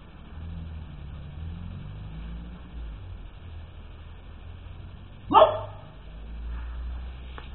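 A small black dog named Belinha gives a single sharp bark at mid-range distance over a steady low rumble of passing traffic, otherwise quiet.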